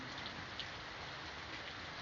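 Rain falling during a typhoon, a steady faint hiss of drops on surfaces with a few slightly louder spatters, continuous and distant-sounding throughout.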